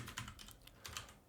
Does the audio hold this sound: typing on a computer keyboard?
yes